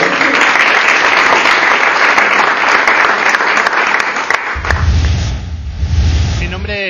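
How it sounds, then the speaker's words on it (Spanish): An audience at a blogger meetup in Barcelona applauds in a dense, steady burst of clapping that fades after about four and a half seconds into low rumbling room noise and handling sounds. "un aplauso, gracias a todos por venir"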